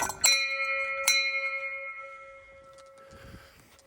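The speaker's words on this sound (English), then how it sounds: "Let's go give their little bell a ding-a-ling." A small bell at a golf course hole is struck twice in quick succession, each ding ringing out clear and bright, then decaying slowly into quiet outdoor air with faint rustling.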